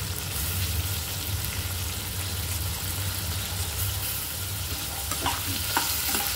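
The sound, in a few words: spices and sesame seeds being roasted in a pan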